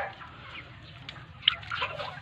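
Faint, soft clucks and murmurs come from 45-day-old broiler chickens on a farm during hot weather, with a few brief louder calls over a quiet, low background.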